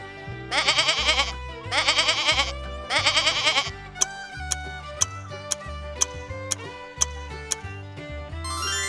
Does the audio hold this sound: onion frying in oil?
no